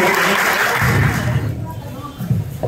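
An audience at a Satriya culture day gathering of the Sivasagar district Satra Mahasabha at Bengenaati Satra claps in blessing for the students. The loud, dense applause fades after about a second and a half, and a voice talks over the thinning claps.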